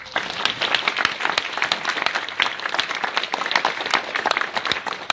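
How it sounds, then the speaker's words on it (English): Sustained audience applause after an evening talk on animal advocacy, dense overlapping hand claps filling the room at a steady, fairly loud level with no speech. "One last round of applause for Alex."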